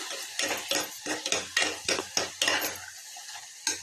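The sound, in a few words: stirring ginger garlic into vegetable biryani in a pan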